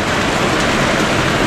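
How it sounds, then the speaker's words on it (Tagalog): Heavy rain pours steadily during Typhoon Odette in a mountain barangay of Cebu City, forming a loud, dense, unbroken wash of noise with wind folded in and no voices. "Ulan at saka lakas na angin, pabugso-bugso."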